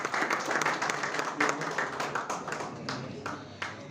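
An audience claps for a cricket scorekeeper at the closing ceremony of a friendly cricket tournament held in a press club courtyard. The applause is moderate and scattered, with some individual claps standing out, and it carries on steadily for a few seconds.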